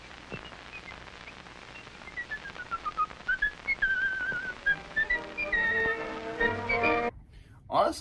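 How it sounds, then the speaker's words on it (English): Someone whistles a wandering, melodic tune, notes rising and falling steadily, then a few sharp bursts near the end. "You just walk in and you whistling, man."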